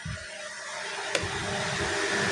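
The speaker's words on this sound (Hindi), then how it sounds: "तो मैं मशीन में सुखा लूँगी कपड़े" A home washing machine runs its spin-dry cycle on a load of clothes, giving a steady close whirring roar with a constant whine and one brief click partway through, with no talking.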